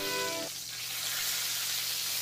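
A steak flipped with tongs in a hot pan sizzles steadily, a loud bright hiss that rises once it lands and holds without pause, with only a brief tonal hum at the very start.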